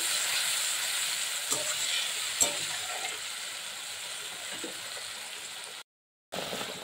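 Onion, garlic and green chili paste stir-fried in a pan for a Bengali bhola fish curry, giving a steady close sizzle with a few soft scraping stirs and a brief gap near the end.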